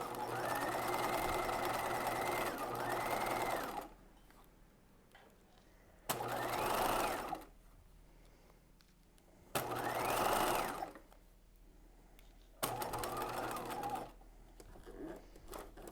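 A sewing machine stitches a bodice seam in four steady whirring runs, each a few seconds long, separated by quiet pauses where the fabric is pivoted, close and clear with no talk.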